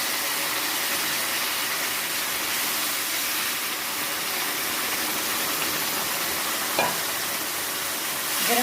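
A hot mixture is poured into semolina halwa cooking in a pan, giving a steady, hissing sizzle that fills the whole stretch at close range. A faint clink comes near the end, and no one speaks.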